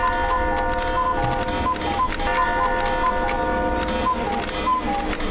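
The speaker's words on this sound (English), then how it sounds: "Clocks are all freaking out." Clocks in the Madison horror game ticking and chiming wildly all at once, a dense, loud, continuous metallic clatter with repeating tonal pings layered over a low rumble.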